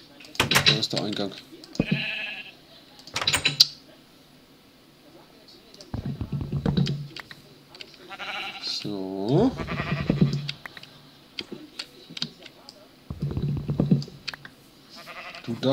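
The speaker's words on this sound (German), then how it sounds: "Und das nächste Schaf." Minecraft sheep give a few bleats, including one clear wavering call, between bursts of clicking and short stretches of speech.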